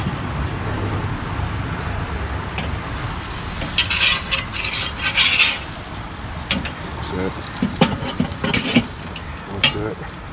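Chicken pieces frying in a pan give a steady sizzle, with bursts of louder spitting and scraping as they are turned; a person talks briefly in the background.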